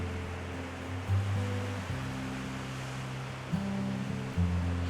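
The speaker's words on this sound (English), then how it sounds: "listening to the power of the Pacific Ocean as it beats incessantly on the ancient" Pacific Ocean waves pound the ancient rocks of the rugged Olympic coast headlands as a continuous roar of surf, with a few louder surges swelling through.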